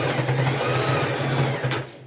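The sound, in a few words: sewing machine backstitching on a TNT fabric patchwork rug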